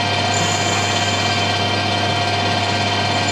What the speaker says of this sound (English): I've got the lathe running fairly fast, 1000 RPM,